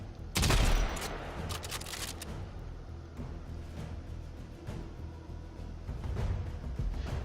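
Sybaris rifle in the Warframe video game fires a loud burst of rapid shots, followed by quieter mechanical reload clicks and scattered game effects.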